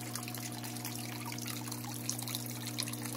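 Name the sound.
small waterfall barely flowing, a trickle of water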